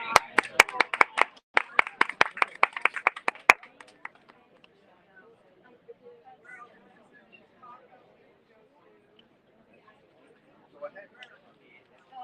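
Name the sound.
audience applause at book festival booth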